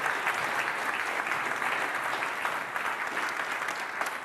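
A dense, sustained round of applause fills a crowd at the 2023 Canadian Premier League awards ceremony, many hands clapping steadily and loudly from start to finish.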